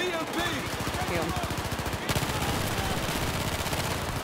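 A CZ-3A1 submachine gun firing in Battlefield 4, a fast, steady rattle of closely spaced shots that runs nearly continuously and sounds close and loud, with a brief break partway before the burst resumes.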